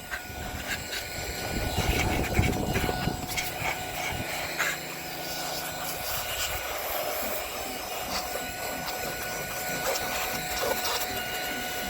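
An electric compressed-air replacement blower runs on its low setting, giving a steady close whirring hiss with a rougher rumbling stretch early on, continuous and fairly loud throughout.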